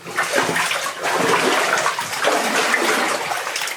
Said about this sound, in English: Lovely clear water underneath.